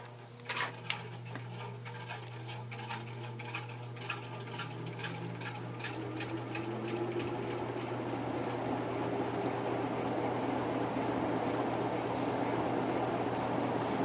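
An antique Century ceiling fan runs on high speed, giving a steady low hum with faint ticking and a soft scraping noise as it comes up to speed, close and without talk.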